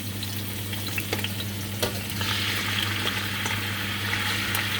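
Shrimp frying in hot oil in a home kitchen while cooking pancit bihon, a dense continuous sizzle with crackles and a brief stir partway through, close and steady with nobody speaking.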